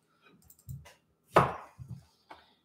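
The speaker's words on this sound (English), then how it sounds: "Chopping it up and making pieces?" Knife chopping a whole pear into pieces on a cutting board during home cooking, a few dull close thuds, one louder hit, irregular and sparse with no talk.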